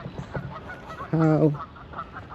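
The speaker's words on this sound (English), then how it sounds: "the Canadian geese. They're about to they're start to fill in the pond" Canada geese at a church-grounds pond let out one loud nasal honk, with fainter honks and a brief spoken word around it.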